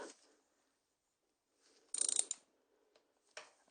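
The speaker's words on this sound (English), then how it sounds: "I've got a torque wrench to make certain that I have the right amount of pressure on the bolt" A torque wrench tightening a camshaft bolt on a 1995 Geo Metro: two short bursts of quick ratcheting clicks, close and crisp, separated by near silence with a faint mechanical touch at the start.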